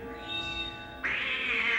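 A cartoon cat lets out a single drawn-out meow, close by, with a steady tonal sound leading into it.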